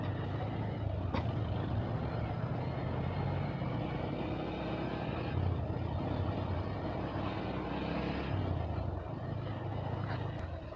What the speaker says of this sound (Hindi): ट्रैफिक हो गया रे भाई